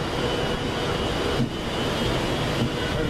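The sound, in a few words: Class 390 train 390.122 departing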